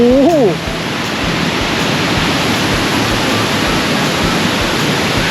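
A waterfall, Tat Kuang Si near Luang Prabang, roars steadily and loudly, a dense constant rush of water, with a brief voice at the very start.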